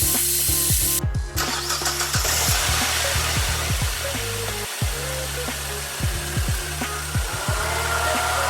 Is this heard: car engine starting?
yes